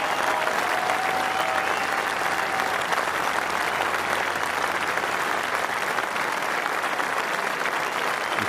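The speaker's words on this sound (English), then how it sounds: "It's hard to make yourself heard over the roars of the crowd." A huge golf gallery at Royal St George's roars and applauds Darren Clarke's 2011 Open Championship win, a loud, unbroken wall of clapping and cheering close around the listener for the whole stretch.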